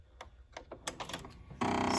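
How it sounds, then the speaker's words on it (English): Internal mechanism of a Bernina 4, 5 or 7 series sewing machine shifting to the right side: a run of light clicks and taps, then a steady mechanical whir that holds to the end, close and fairly loud. "all the mechanism moved here to the right side of the machine"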